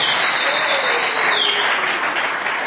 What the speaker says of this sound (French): Est-ce qu'on peut acclamer convenablement pour encourager nos récipiendaires?